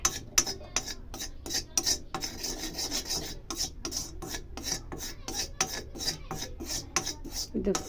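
A spatula rasps and scrapes steadily in an iron kadai as turmeric dry-roasts for a natural black hair dye, close and fairly loud, with repeated scraping strokes in a quick, even rhythm and no voices.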